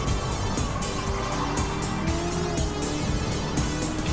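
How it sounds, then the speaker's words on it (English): A race car in a Challenge Series race screams into turn one at nearly 190 mph, its tires squealing over a loud, continuous roar of engine and road noise, close and steady throughout. "Just hear Brandt's tires just screaming for mercy as it hits nearly 190 going into T1"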